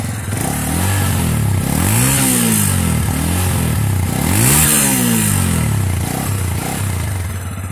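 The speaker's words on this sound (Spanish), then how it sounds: "Acelera la motocicleta, Sebastián, para que escuchemos el sonido." SYM NHX 190i motorcycle engine revving up and down loudly nearby, with two clear rising-and-falling throttle blips over a steady idle rumble, no talking.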